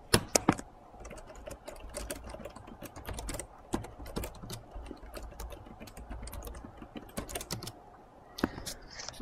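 Someone types an email username and password on a computer keyboard in quick, uneven bursts of close, crisp key clicks. A few louder taps stand out and there are short pauses between runs.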